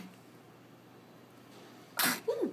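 A single short, sharp sneeze breaks through a quiet room after a stretch of low background hiss, followed by a brief faint vocal sound.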